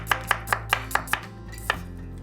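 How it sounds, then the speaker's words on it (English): Sharp, regular knife strokes slicing an onion on a cutting board, about seven quick chops in a steady rhythm, then a final one after a pause. "So 1 onion, we're going to finely slice."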